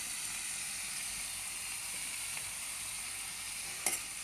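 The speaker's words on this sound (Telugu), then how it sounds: "మెంతులు వేసి పచ్చివాసన పోయేంత వరకు వేయించుకోవాలి." Fenugreek seeds fry in a pan with a faint, steady sizzle and light stirring, plus a brief scrape near the end, heard quietly and alone.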